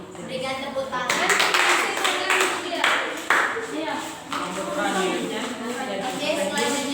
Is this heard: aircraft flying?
no